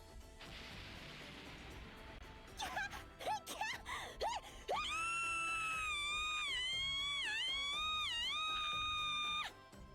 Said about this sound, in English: We can listen to Anju's screams all day.